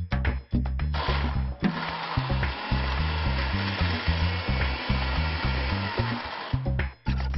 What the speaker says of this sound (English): now it will go in the food processor, where we're going to grind it a bit to get a nice thick paste